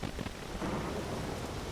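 Thunderstorm in the Skellige wilds of The Witcher 3, with steady heavy rain and a low rumble of thunder rolling underneath, loud and continuous with no voices.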